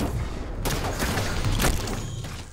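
Dense overlapping gunfire in the shooter The Division, a continuous rattling volley with a few sharper cracks standing out, loud and busy throughout.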